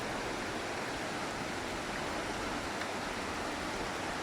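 Water rushes over stone stairs beside Tumpak Sewu Waterfall in Lumajang, a constant, hissing wash that stays even and fairly soft throughout with no voices.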